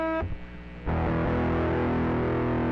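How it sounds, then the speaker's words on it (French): Electric guitar played through a software distortion pedal built with Pedalboard.js and Tone.js: a clean note cuts off, then a loud, sustained, buzzing distorted chord rings steadily with a humming undertone. "j'allume la pédale de distorsion."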